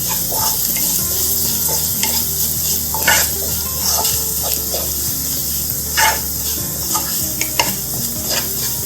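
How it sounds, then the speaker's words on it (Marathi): Cumin, turmeric and coriander powder sauté in a pan, a close, steady sizzle with repeated scraping and stirring strokes of a spatula, no talking. "हळद आणि धने पावडर. छान सगळ्यांना परतून घ्यायचं अशा प्रकारे."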